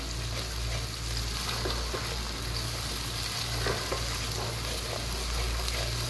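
Cumin, black cardamom and curry leaves sizzle steadily in hot oil while a spoon keeps stirring them, a dense continuous frying hiss with faint scraping and no talk, while Lahori chikar cholay is being cooked.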